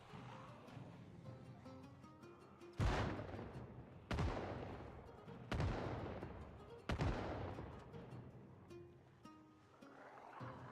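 Gunfire against zombies in the survival game Project Zomboid: four loud, sharp shots spaced a second or more apart ring out over a murky game background, each with a short decaying tail.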